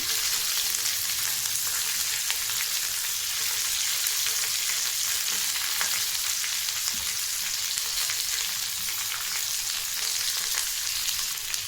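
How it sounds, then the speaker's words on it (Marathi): Stuffed okra frying steadily in hot oil with crackling cumin seeds, a constant dense sizzle that stays even and fairly loud for the whole stretch, with no voices. "भेंडी टाकून घ्यायचं आहे भरलेली असं तेलामध्ये ठेवायचं आहे"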